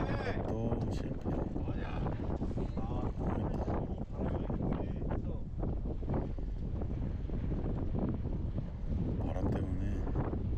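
Strong gusty wind on the Club 72 Sky Course buffets the microphone in rough, continuous bursts, with muffled voices mixed in under the roar.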